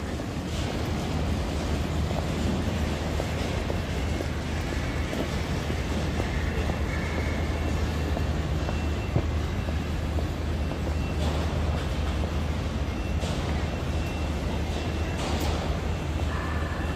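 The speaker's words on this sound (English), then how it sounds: "Some of you already know exactly which Shinkansen it was." Shinkansen bullet train passing through central Tokyo near Ginza and Marunouchi, a steady broad rushing roar with wind buffeting that holds for the whole stretch, with no voices.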